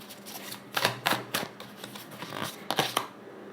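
Tarot cards slide and snap as two are drawn from a large deck during a reading, giving several short papery flicks and shuffles, close and fairly quiet, with no talking.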